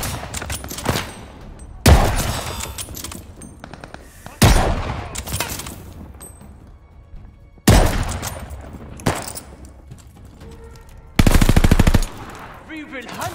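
Repeated bursts of machine gun fire in the World War II shooter game Call of Duty Vanguard, loud and close, broken by short pauses and mixed with other combat sounds.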